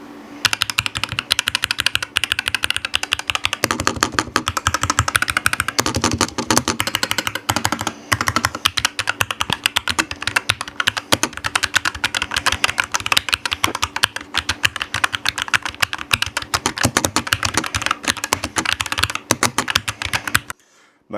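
Continuous typing on a MelGeek Made68 Air, a 68-key keyboard with Hall effect magnetic switches, fills the clip: dense, rapid, close-up key clacks with no pauses for about twenty seconds.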